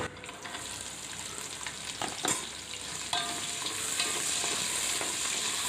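Medium onion frying in a pan with cashews, almonds and chironji, a soft continuous sizzle with occasional stirring scrapes and clinks, close and moderately quiet, no voices.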